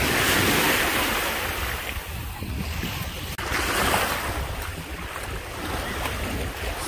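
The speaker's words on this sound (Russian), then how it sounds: "Ветер с моря дует." Wind blows in strongly off the sea while waves break on the shore at Vulcano Porto in Italy. A loud, steady roar of wind buffets the microphone, and the surf swells and recedes throughout.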